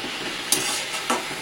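Leafy greens frying in a pan are stirred with a spatula, producing a steady close sizzle with two brief scraping strokes, no voices.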